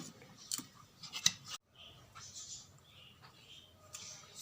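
Cutting during cake preparation at home, a few faint, brief snips close by separated by quiet gaps, with soft handling noise and no talking.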